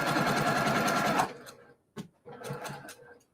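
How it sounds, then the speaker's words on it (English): A sewing machine stitches fabric with a 1/4 inch seam, running in a steady rapid whir for over a second, then pausing before a short blip and a second burst of stitching. "I'm going to stitch this with the 1/4 inch seam"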